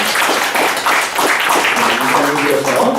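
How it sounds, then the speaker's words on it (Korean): Applause from a church congregation welcoming two newly ordained pastors at a Korean Presbyterian ordination service, a steady dense clapping that fills the whole clip at close range. "박수로 환영해주시기"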